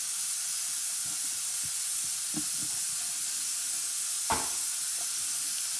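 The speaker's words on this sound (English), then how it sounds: "And I know y'all can hear that pressure cooker in the background. Making all that noise." A pressure cooker hisses steadily while cooking oxtails, a constant broad steam hiss across the whole stretch with a few faint clicks and one brief sharper burst near the end.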